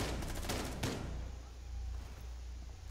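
Gunfire from Rainbow Six Siege on the Kanal map, with a dense burst of rapid shots in the first second before it drops to a low steady game background hum.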